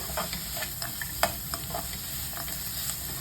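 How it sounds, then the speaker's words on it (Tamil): Onions sautéing with cardamom and cashews in a pan for a malai chicken masala, with a steady sizzle and repeated quick spoon clicks and scrapes against the pan, one sharper knock in the middle. "இந்த அளவுக்கு வதங்கினதும் இது கூட நான் ஒரு 10-15 கேஷ்யூ சேர்த்துக்கிறேன்."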